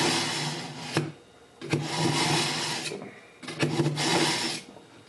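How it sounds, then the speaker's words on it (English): A cheap Farberware kitchen knife drawn through a small handheld sharpener, giving three rasping, scraping strokes of about a second each with short pauses between, close and fairly loud. "But I really like these little handheld sharpeners like that."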